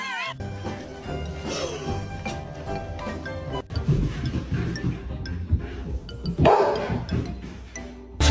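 A dog barks and yips in dramatic bursts alongside mixed household noise and some speech, with sharper, louder barks in the second half.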